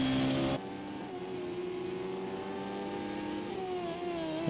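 F1 race car engines accelerating at Donington during the Donington Trophy race, a steady mid-pitched engine drone that rises and holds, heard from a distance with a shift in tone early on.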